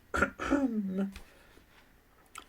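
A narrator's little throat-clearing cough as Pooh in a Winnie-the-Pooh chapter reading, a short voiced rasp followed by a drawn-out vocal tone, close and clear, with a voice imitating the sound.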